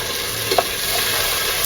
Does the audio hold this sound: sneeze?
no